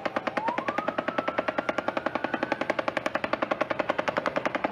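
Rapid automatic gunfire during the Las Vegas shooting, fired from the 32nd floor of the Mandalay Bay hotel, a long, evenly spaced burst of sharp cracks carrying on without pause, with a faint tone drifting underneath.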